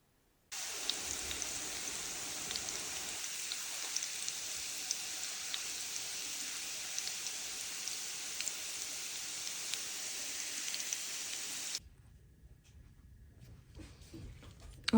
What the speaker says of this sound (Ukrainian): І піду тепер його смажити.